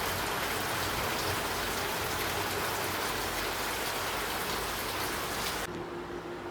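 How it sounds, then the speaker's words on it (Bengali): Heavy rain pours down under a dark, overcast sky in a village, a dense, steady roar of drops hitting surfaces at close range. It continues without a break for most of the stretch, then drops a little in level near the end. "প্রচণ্ড জোরে বৃষ্টি পড়ছে।"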